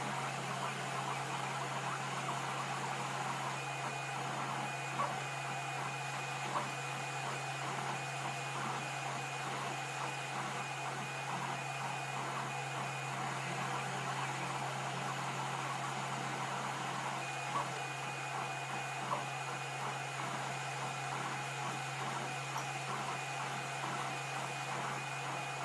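A Tevo Tarantula 3D printer runs with a steady mechanical hum and fine rhythmic motor texture, continuous and even for about twenty-six seconds with no talking.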